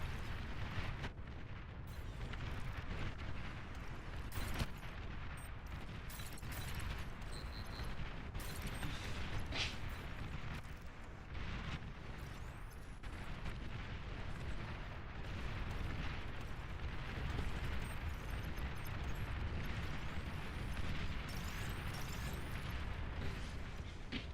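Explosions and artillery fire from the Beyond All Reason strategy game keep booming and crackling in a dense, continuous barrage of overlapping blasts, fairly quiet overall, with no talk.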